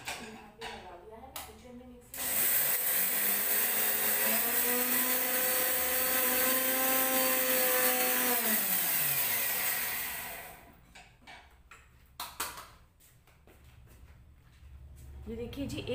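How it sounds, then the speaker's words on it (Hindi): A mixer grinder grinding turmeric whirs loudly and steadily for about eight seconds, then winds down; someone talks before and after the grinding. "हम मिक्सी में एक दो बार चला लेते हैं"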